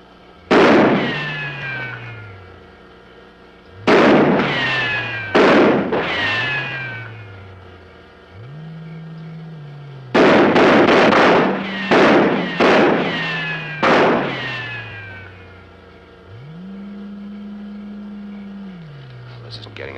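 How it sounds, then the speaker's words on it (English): Rifle gunfire from soldiers firing rounds in a 1957 science-fiction film: loud, sharp cracks arriving in scattered clusters of two or three shots, set against a low, wavering drone that swells and fades between volleys. "Go ahead, Corporal. Fire a few rounds."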